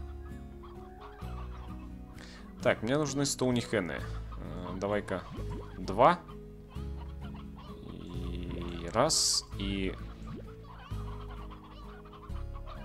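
Chickens in the video game Slime Rancher cluck and squawk in short bursts on a farm, with a rooster calling among them. Someone talks quietly over the birds while a low ambient hum runs throughout.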